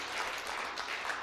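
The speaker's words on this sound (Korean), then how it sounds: "김봉호 목사님 단위에 서실 때 한번 자리에서 일어나셔서 박수로 할렐루야로 맞아주시기 바랍니다." A church congregation standing to applaud during a Sunday worship service: dense, steady clapping from many hands filling the room, continuous throughout and fairly loud.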